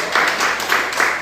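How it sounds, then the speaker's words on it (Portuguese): Applause from a church congregation at the close of a Sunday evening service, a short burst of many people clapping with a gently pulsing rhythm, fairly loud and close. "dê uma salva de palmas para Jesus."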